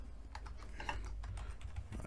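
Typing on a computer keyboard, with rapid, light clicking keystrokes heard up close and continuous for about two seconds with no talking.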